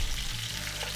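Venison sausage links frying in a pan give a steady, close sizzle and crackle throughout, with no talking.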